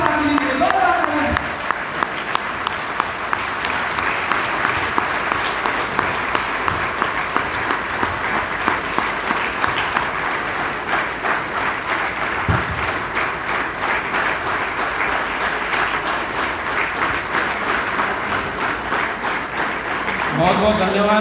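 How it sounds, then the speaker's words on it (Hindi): Sustained, loud audience applause at an Indian community gathering, a dense steady patter of clapping that continues for about twenty seconds with brief speech at the start and end. "उनको जोरदार तालियां दे लीजिए"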